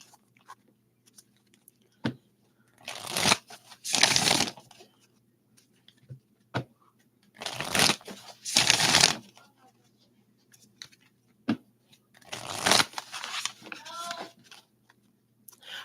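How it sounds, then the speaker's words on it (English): A tarot deck being shuffled in three separate riffling bursts with quiet gaps between them, close and fairly loud, with scattered small taps and handling noises between the bursts. "let's get some shuffles on this deck"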